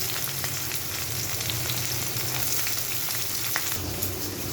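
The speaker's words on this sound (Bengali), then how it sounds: "গোটা গরম মশলা, জিরে, তেজপাতা, শুকনো লঙ্কা ফোড়নে দেব।" Whole garam masala, cumin seeds, bay leaf and dried red chilli crackle and sizzle in hot oil for a Bengali ghugni tempering, a dense, steady close frying hiss with small pops scattered through it.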